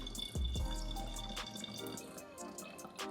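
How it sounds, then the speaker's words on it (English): Water runs and splashes into the tank of a Bissell Steam Shot handheld steam cleaner, a short close pour that trickles on faintly with light drips. "Now we can put the water in."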